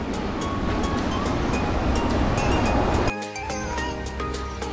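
Surf rolling onto a beach at Quy Nhon as a steady broadband wash, loud and close, with an abrupt shift partway through to a thinner sound carrying tonal hum, likely wind or a motor; no talk.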